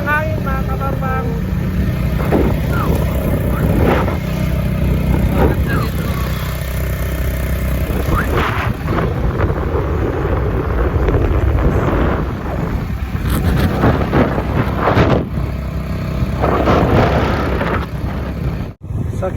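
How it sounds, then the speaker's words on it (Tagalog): Strong wind buffeting the microphone while riding along a highway, a continuous loud low roar with gusty surges and road and engine rumble mixed in, and occasional speech underneath. "Ang lakas ng hangin mga kabangbang"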